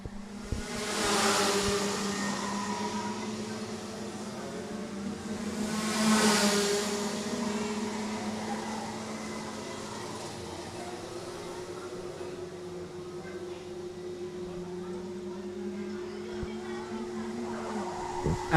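Rotax Max go-karts in the Junior Max class at a national karting championship race, engines droning steadily at a distance with two louder swells as karts pass by, a sustained mid-pitched whine running throughout.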